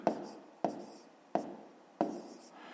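Pen strokes on paper while working a 5th-grade maths exercise, four short scratchy taps spaced about half a second apart, close and quiet.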